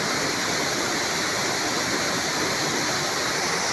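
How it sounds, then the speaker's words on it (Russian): Berdsk waterfall in the Novosibirsk region, Siberia, pours in a steady, dense roar of falling water, a constant loud hiss with no breaks and no voices. "Я сейчас нахожусь на Бердском водопаде в Новосибирской области"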